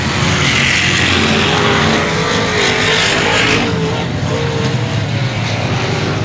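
Race cars at Cotton Bowl Speedway roaring past at full throttle, a dense, loud engine roar that swells and shifts in pitch as the pack passes, then eases into a lower, steadier drone.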